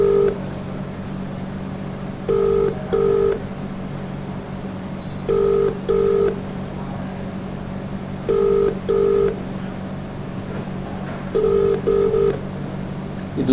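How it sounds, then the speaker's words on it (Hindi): An outgoing phone call to a politician's number rings unanswered: paired ringback tones repeat four times at even intervals over a low steady hum. "ये दूसरी बार है जब मैं विधायक जी का नंबर मिला रहा हूँ, फ़ोन नहीं उठ रहा है"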